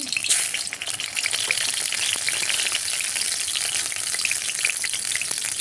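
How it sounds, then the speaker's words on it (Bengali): Tomatoes hit hot oil and throw up a loud, dense, continuous sizzle that holds steady from start to finish, close up with no voices. "তেল দিয়ে দিয়েছি। টমেটো দিয়ে দিচ্ছি।"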